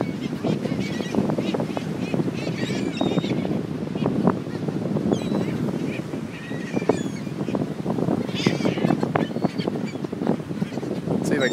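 Seagulls crowding around a birthday cake outdoors, their scattered high calls rising now and then over a steady bed of wind and background noise while people talk throughout.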